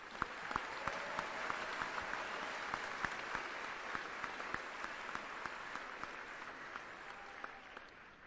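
A distant crowd at a Fort Jackson basic training graduation ceremony applauds military families, steady clapping lasting the whole stretch with sharper individual claps standing out.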